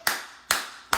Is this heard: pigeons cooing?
no